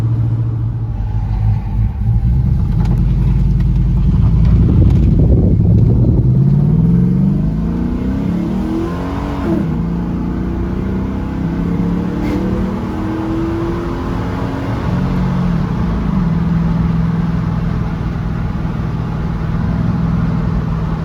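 An LS-swapped 1982 GMC Squarebody truck rumbles loudly while driving, its engine revving up through climbing, sweeping tones before settling into a steady deep cruising drone, heard from inside the cab.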